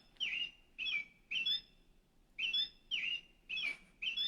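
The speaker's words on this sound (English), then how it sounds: "that's the sound, the happy sound of our robins" A toy bird plays an American robin call: short, bright chirps, about seven calls in a steady repeating rhythm with brief pauses between, clear and close.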